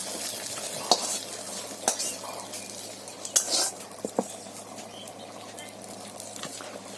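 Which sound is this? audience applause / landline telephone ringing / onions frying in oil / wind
onions frying in oil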